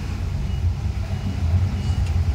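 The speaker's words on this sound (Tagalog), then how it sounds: "Grabe ang traffic." Heavy road traffic on the road from Lopez to Gumaca in the Philippines gives a steady low rumble of idling trucks and buses, with engines droning continuously up close.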